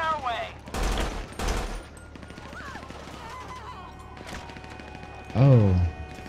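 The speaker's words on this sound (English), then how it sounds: "Oh, getting shot at." Gunfire in GTA V during a police motorcycle patrol, a few loud sharp bursts early on and a heavy thudding shot near the end, with someone speaking between.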